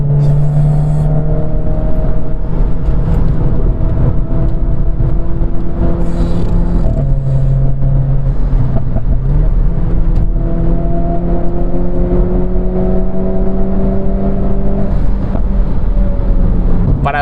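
A Renault Clio RS Trophy hatchback takes a curve, its engine note climbing and dropping through gear changes from inside the cabin, loud and continuous with wind rush.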